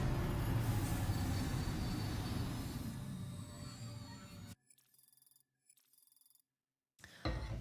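Monorail train in the video game Death Stranding 2 rumbles and rattles along the track with a faint wheel squeal, loud and steady for several seconds before the sound cuts out into near silence with brief flickers.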